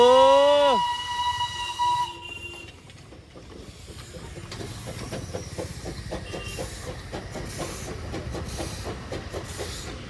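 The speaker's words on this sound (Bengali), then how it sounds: "এইটা হচ্ছে স্টিম লোকোমোটিভ যেটা আসছে" A Darjeeling toy train steam locomotive at Darjeeling station near the loco shed gives a short, loud whistle, then keeps up a steady hiss of steam with faint rhythmic chuffing underneath.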